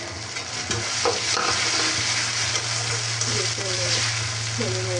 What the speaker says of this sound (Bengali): আদা রসুন বাটাটা আমি তেলের মধ্যে একটু ভালো করে ভেজে নেব।